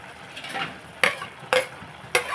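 Spice powder being stirred into a spinach and sesame curry, with a soft sizzle and three sharp scrapes or knocks of the spoon against the pan.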